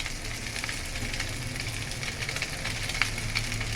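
Food fries and sizzles in a pan, a steady faint crackle with a few sharper pops, with no talking.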